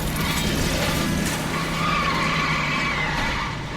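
Car driven hard through 1940s Los Angeles streets in L.A. Noire, with a steady loud engine roar and tire skidding throughout, no voices present.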